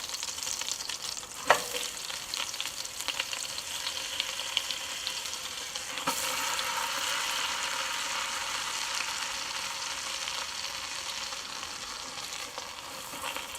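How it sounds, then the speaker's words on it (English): Veal shanks sear in melted butter in a pan at a braai, giving a steady close sizzle and frying crackle with two sharper pops early on, and no voices. "The butter has melted and we're now going to put in the shanks and give them a little bit of a sear."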